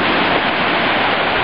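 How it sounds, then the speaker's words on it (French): A steady, loud wash of surf as waves break against breakwaters at rising tide in Saint-Malo, a continuous roar with no distinct individual crashes and no voices. "quand la marée monte, les vagues viennent s'écraser contre ce qu'on voit ici"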